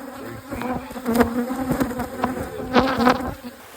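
Honey bees from a large nest under a shed floor buzzing loudly and close, a dense droning hum with individual bees swelling past.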